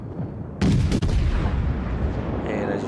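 Naval guns of the cruiser USS Omaha firing in World of Warships, a sudden loud booming salvo that rolls into a long rumbling tail, with a faint voice under it.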